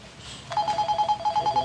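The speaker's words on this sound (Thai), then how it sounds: "ขอรับโทรศัพท์" A telephone rings with a steady, repeating electronic trill that starts abruptly and continues at moderate volume, with no talk over it.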